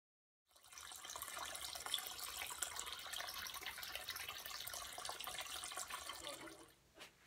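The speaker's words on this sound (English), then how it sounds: "we've drained most of it from the side of the tank higher, we're now using the downspout and then a bucket" Heating oil drains from the side of a home heating oil tank into a bucket, a steady continuous liquid pour running for about six seconds before tapering off, alone with no talk.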